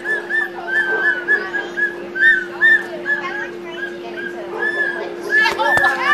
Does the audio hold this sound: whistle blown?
yes